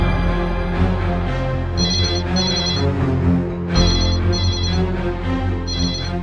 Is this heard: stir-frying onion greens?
no